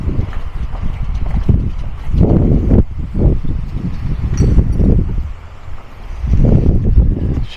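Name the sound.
wind blowing at beach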